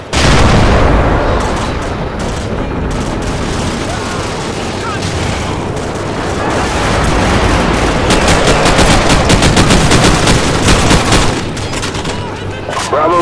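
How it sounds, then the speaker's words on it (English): Loud, sustained automatic gunfire and explosions in the video game Call of Duty 4: Modern Warfare, dense rapid bursts over a heavy battle rumble with shouted voices mixed in. "Target acquired! Fire!"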